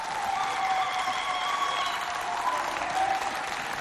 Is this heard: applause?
yes